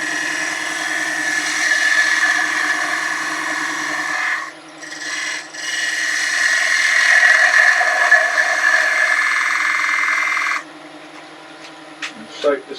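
A woodturning lathe tool shapes the corner of a wooden sphere box, a steady close scraping and rasping under the spinning workpiece, broken by a couple of brief pauses, then a quieter running hum at the end.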